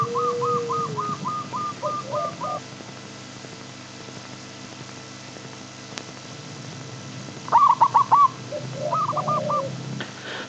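A spotted dove (tikukur) plays from a video and repeats its rhythmic cooing call, with a clear series of notes at the start and another short burst later, over a steady low background hum.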